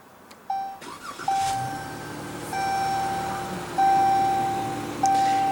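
A 2015 Chrysler 300 with a 3.6 liter V6 is push-button started, the engine catching after a short crank and settling into a smooth idle, with repeated chime beeps sounding at regular intervals over the running engine.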